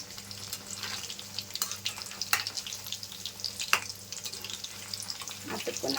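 Paneer 65 pieces fry in hot oil with a steady crackling sizzle, broken by a few sharp spatters and the occasional scrape of stirring.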